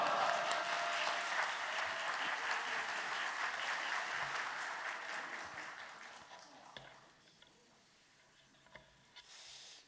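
A church congregation claps in welcome of a pastor at a men's mission dedication worship service, a broad dense roll of applause that fades over the last few seconds into a quiet room with a few scattered claps.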